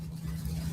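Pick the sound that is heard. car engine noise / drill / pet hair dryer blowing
car engine noise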